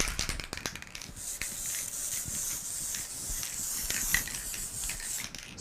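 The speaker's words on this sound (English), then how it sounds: "Spray on a little bit of your spray adhesive." Spray adhesive hissing from an aerosol can onto cotton batting, a steady close airy spray with a few short bursts and small handling clicks, no talking.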